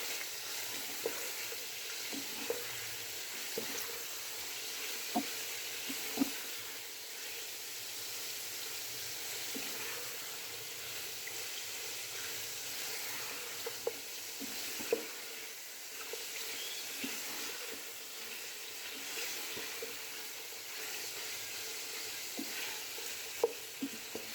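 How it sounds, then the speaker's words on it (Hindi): Quail frying in oil with garlic ginger paste, a faint, even sizzle running throughout with occasional light clicks and scrapes of stirring, heard from a little distance. "अब मैं इनको करने लगी अच्छे तरीके से फ्राई"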